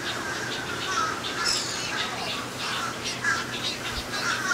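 Seabirds at a seashore sanctuary in Indian Shores give repeated harsh squawks and calls over a constant noisy background, some near and some farther off.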